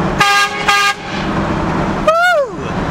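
Train horns fitted to a truck blast twice in short, loud, high-pitched bursts, then a regular air horn gives a brief bending toot as the truck drives down the road.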